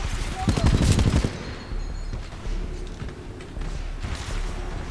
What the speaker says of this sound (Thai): โดนยิงเยอะๆหลายๆนัด หุ่นเราก็พังได้เหมือนกันนะ